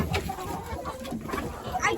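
A hen chicken, broody and being handled by her head feathers and body, gives soft clucks and murmurs mixed with handling noise and a nearby voice.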